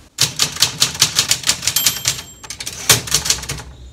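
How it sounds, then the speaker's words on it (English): A typewriter clacks in a quick, steady run of loud, close keystrokes, with a brief pause partway and a bell-like ring near the middle. "We have a typewriter."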